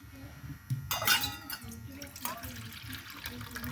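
Water poured from a small vessel over cashews in a bowl to soak them, a brief close splash and trickle with faint handling noises after, with no speech.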